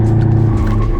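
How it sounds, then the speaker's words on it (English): A 2021 BMW 6 Series GT launches hard with gearbox in manual sport mode and ESP off, a loud, close engine roar with a brief tyre squeal in a one-second burst. "it doesn't have launch control, but it does accelerate hard"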